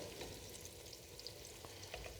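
Onions sizzling in butter in a pan while being stirred constantly for a Mornay sauce, a steady soft crackle with occasional small pops and scraping, close and alone.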